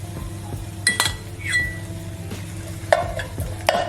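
Tomato paste stirred into chilli con carne mince frying in a pan: repeated spoon scrapes and metallic clinks over a steady low sizzle, close and fairly loud.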